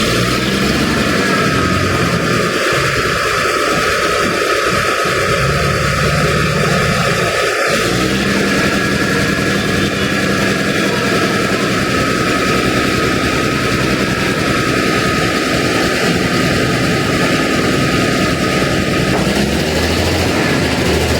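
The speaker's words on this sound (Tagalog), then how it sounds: "Bulubay na rin pala makina ito, ano? Mahina na talaga." An old, weak truck engine runs loud and close, a rough steady drone with a low rumble that shifts partway through and then holds, continuous with no speech.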